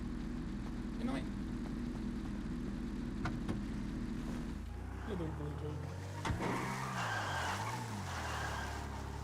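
Video game car driving and skidding during a roleplay session, an engine drone that rises and bends in pitch with a sliding tire squeal near the end, all under continuous talking.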